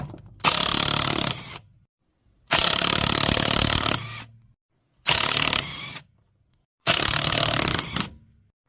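Four loud, sustained bursts of a pneumatic impact wrench spinning off lug nuts on a 2003 Saturn Ion, each about one to one and a half seconds long, separated by short silences.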